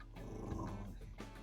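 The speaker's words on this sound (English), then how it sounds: "the dog is growling at Michael Myers." A dog growls low and steady for about a second, close and alone.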